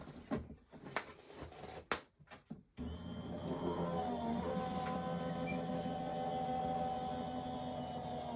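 Die cutting machine running card stock through its rollers, a steady motorized whirr with a rising tone that starts abruptly after a few clicks and handling taps and continues evenly to the end.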